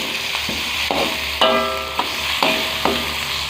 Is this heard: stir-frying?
yes